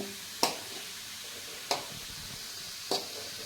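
Green papaya with salt and turmeric stirred in a pan, three separate sharp scrapes of a spoon against the pan over a faint low sizzle, with no talking.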